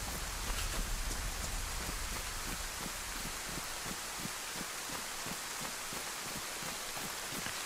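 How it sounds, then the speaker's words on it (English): Steady rain pours down in the survival game DayZ, a dense continuous hiss with faint pattering drops, moderately loud and unbroken with no talking. "If I keep on going, eventually the rain will stop."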